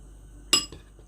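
A spoon clinks against a bowl while cornflour is stirred into a little water: one sharp metallic tap followed by a softer second clink, in an otherwise quiet kitchen.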